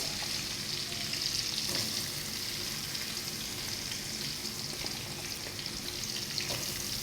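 Sliced onions sizzle in hot oil in a pan, a steady, close crackling hiss with small pops and occasional stirring, with no talking.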